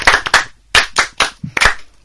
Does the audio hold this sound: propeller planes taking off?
no